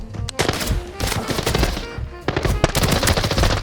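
Loud, rapid machine gun fire in the video game Arena Breakout Infinite: dense, continuous bursts with a brief pause in the middle, close and alone, with no talk.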